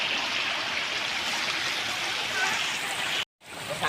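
Heavy storm rain, said to carry hail, pours down in a dense, loud, continuous hiss, briefly cutting out near the end before resuming.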